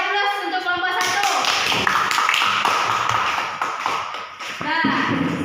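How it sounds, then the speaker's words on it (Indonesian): A classroom breaks into a burst of applause for a group presentation, with many hands clapping at close range and voices mixed in underneath. "kita beri aplaus untuk kelompok 1."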